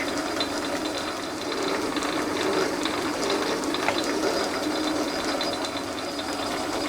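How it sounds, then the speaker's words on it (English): A metal lathe cutting 13 threads per inch, giving a continuous fast mechanical ratcheting and gear whir with faint metallic ticks, steady and fairly close, with no talking. "let's cut some 13 threads per inch."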